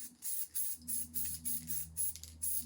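Spray paint hissing out in a run of short, quick bursts, laying a light dusty coat onto an MGB cooling fan, each blast close and crisp with brief gaps between, over a low steady hum.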